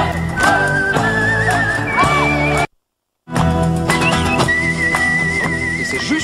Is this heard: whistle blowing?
yes